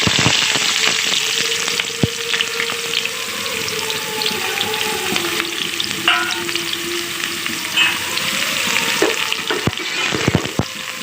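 Onions with whole garam masala, fenugreek seeds, nigella and cumin frying in hot oil, a steady loud sizzle running throughout with occasional stirring knocks and clatters, no voices.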